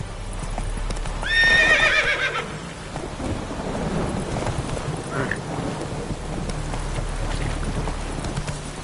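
Horse galloping in Witcher 3, steady hoofbeats running throughout with a loud whinny near the start, over rain and rumbling thunder ambience.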